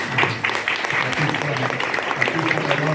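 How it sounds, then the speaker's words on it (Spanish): An audience claps steadily at a book presentation, a moderate burst of applause that runs evenly for a few seconds with a faint voice underneath. "Entonces, un aplauso para"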